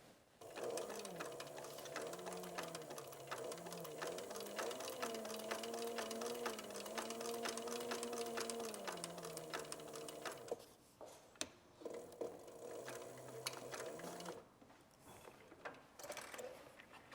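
A sewing machine stitches a tooled leather wallet in a fast, even mechanical chatter, running for about ten seconds, pausing with a few clicks, then running again more briefly, close but quiet.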